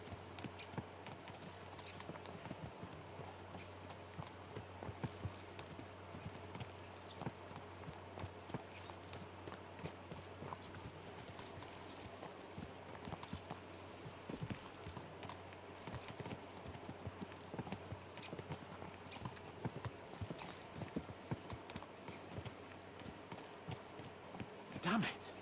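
Horses trot in the medieval video game Kingdom Come 2, a steady, close clip-clop of hooves running for the whole stretch over a busy background of other game sounds.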